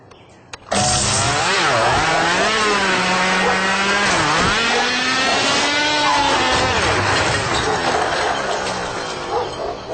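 DJI RSC 2 gimbal motors run an auto-tune routine, giving a loud, continuous close-up whine with wavering, sweeping tones that holds for about nine seconds after starting abruptly.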